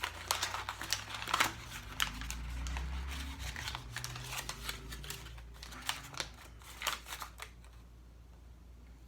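Paper packaging around a Fair Trade Yoyos x Dressel Designs PV44 yoyo is torn and scrunched by hand, making close, busy crinkling and ripping in irregular bursts that thin out near the end.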